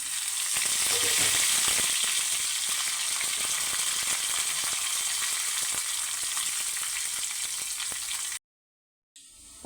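Steady, dense sizzling of curry leaves frying in hot oil with small crackles, continuous and close, then a brief silence near the end.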